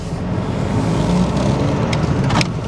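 Engine drone of a £500 trade-up car driving along and gently accelerating, a steady low rumble with faint road noise and no voices.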